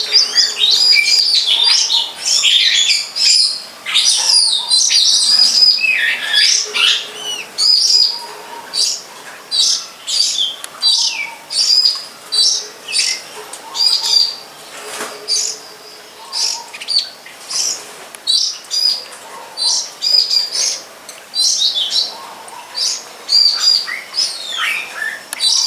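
A long-tailed shrike sings in the wild, a busy run of bright, varied chirps and whistled phrases that starts dense and continuous, then breaks into short repeated bursts with brief gaps, clear and fairly close.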